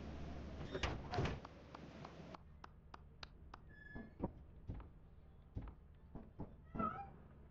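A cat meows a few times in short, high, wavering calls inside the horror co-op game Lethal Company, with clicks and knocks around it, and a voice calls softly to the cat.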